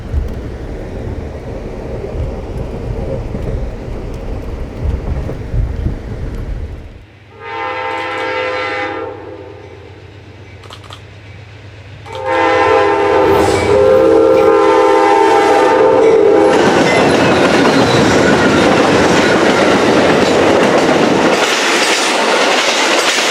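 An Amtrak passenger train sounds its horn in long, loud blasts as it rolls through the DeLand station, with rumbling wheels and a rising rush of railcars passing close by.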